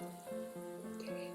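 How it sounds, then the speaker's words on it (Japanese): Bayberries are rinsed under a running tap, a steady stream of water splashing into a sink with faint shifting tones as the fruit is moved. "山桃をきれいに洗います。"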